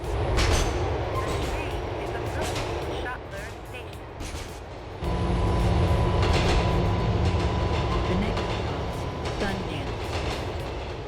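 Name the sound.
modded subway train sounds in GTA 4 video game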